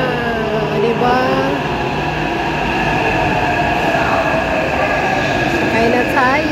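A metro train rolls into a Taipei station near Chiang Kai-shek, loud and steady throughout, with layered wheel and motor tones, a rising whine and brief squeals over constant rumble; voices murmur faintly under the noise.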